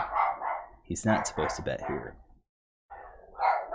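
A dog barks several times in quick succession nearby, mixed in with someone talking, then a brief silence before more sound.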